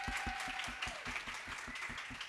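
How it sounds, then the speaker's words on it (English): An audience at a wellness panel during a tech conference claps and applauds, with dense, steady clapping heard slightly distant throughout the short stretch. "Can we give them another round of applause?"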